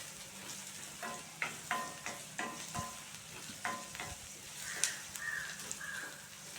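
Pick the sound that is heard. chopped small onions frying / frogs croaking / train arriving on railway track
chopped small onions frying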